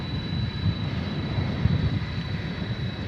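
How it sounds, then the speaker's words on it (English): A Boeing 767 jet airliner taxiing at DFW Airport, a steady low rumbling engine drone with a faint high whine on top, heard from a distance with no voices. "The 767 we saw landing from Austin is getting ready to"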